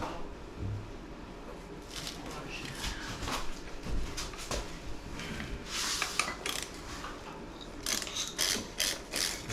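A ratchet wrench loosens bolts on an NP208 transfer case behind a 727 Torqueflight on a 1980–1987 Dodge W150, with close, repeated clicking bursts and metallic scraping in irregular strokes.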